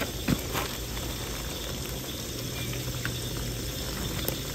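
Fish dropped into hot grease outdoors in a swamp, giving a steady, dense bubbling sizzle with a brief splash-like burst near the start, close and continuous.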